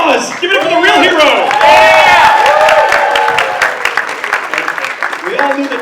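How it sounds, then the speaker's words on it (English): A comedy roast crowd claps, cheers and whoops loudly, with shouting voices rising over the clapping and then tapering toward the end. "You guys want to applause? Give it up for the real hero!"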